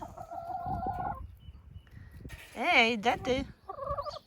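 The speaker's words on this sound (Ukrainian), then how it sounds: "А ми випустили курей погуляти." Chickens calling and clucking in a village yard, with a loud rooster crowing burst in the middle and a short spoken question near the end.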